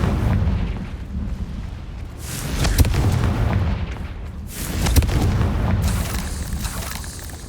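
In Hogwarts Legacy, the fiery Confringo spell fires off in combat with two sharp, booming explosions a couple of seconds apart. A rumbling, crackling game soundscape runs between them.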